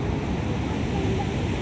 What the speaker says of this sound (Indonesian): Ini ombaknya lagi cukup besar ya, cukup kencang.